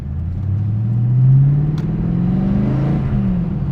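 A 1998 TVR Chimaera's engine revs up under acceleration, a deep rising drone that swells loud and steady through the whole stretch, pitch climbing as the car pulls.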